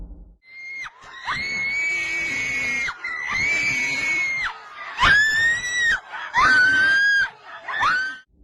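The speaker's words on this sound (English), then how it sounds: "The high-pitched screams of the girl filming seem to startle the bear" A girl lets out repeated high-pitched, piercing screams while filming a bear encounter outdoors, several long sustained shrieks in a row, loud and close.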